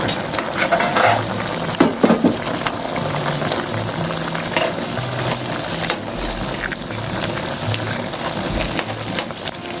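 Vegetables fry and sizzle in a pan while being stirred, with scraping clatters and a few sharper knocks of the utensil against the pan, steady and close throughout.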